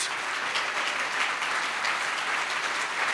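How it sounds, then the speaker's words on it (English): An audience at an AIDS/LifeCycle camp stage event applauds, a thick, sustained wash of clapping from many hands at a steady, loud level from start to finish. "You should applaud every time you hear the name Dr. Marcus Conant"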